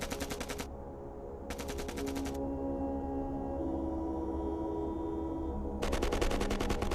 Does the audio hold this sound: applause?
no